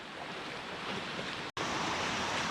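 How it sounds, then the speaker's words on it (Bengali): A rain-swollen stream near Napittachora waterfall rushes in a constant, loud broadband roar, briefly cut by a short dropout midway, with no voices. "বৃষ্টি হওয়ার জন্য মনে হয় স্রোতটা বেড়ে গেছে"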